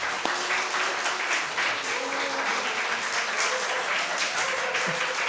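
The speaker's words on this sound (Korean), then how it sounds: "아유 박수 한번." A church congregation applauds a deacon's arrival with a steady round of many hands clapping, fairly close and even, while a few voices murmur faintly underneath.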